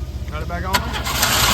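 A 1993 Oldsmobile Cutlass Ciera is started with the key, the starter cranking briefly before the engine catches and settles into a steady idle, close by, with a voice talking over it.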